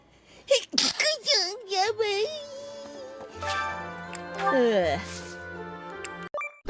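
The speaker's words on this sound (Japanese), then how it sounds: "行きたいとこいっぱいすぎてちょっとくしゃみが出そう。" A Japanese livestreamer lets out a sharp sneeze amid animated, high-pitched chatter, with short breathy bursts and exclamations around it at close range.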